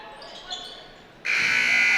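A loud, sustained electronic buzzer ending the first half of a girls' varsity high school basketball game suddenly blares and holds steady, cutting in over quieter background crowd noise.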